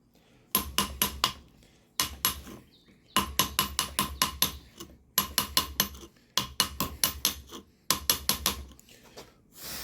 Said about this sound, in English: I'm going to come back in here again with this chisel and cut a new little groove down the bottom